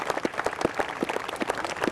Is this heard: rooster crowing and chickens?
no